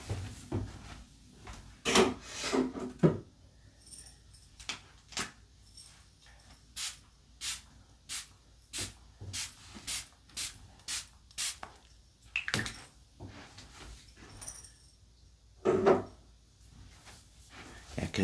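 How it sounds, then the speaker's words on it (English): A sage spray bottle is pumped around a room in a long series of short, sharp hissing bursts, some in quick pairs, with pauses and soft handling noises between them. "I go around and use my sage spray"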